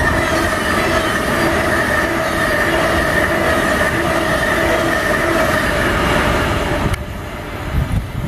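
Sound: Virgin Pendolino fast train passing through Stafford station

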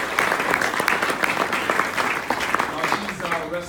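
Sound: crowd applause at political speech

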